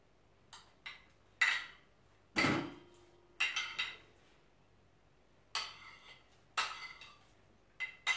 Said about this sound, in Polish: teraz będę wrzucać te ogórki